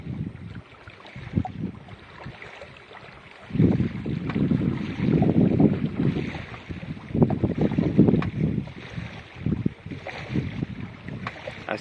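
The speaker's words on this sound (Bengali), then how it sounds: "প্রচুর হাওয়া হচ্ছে গাঁড়াল নদীতে" Strong wind gusting over a river, rough buffeting rumble on the microphone that rises and falls in waves, loud and close, with no voices.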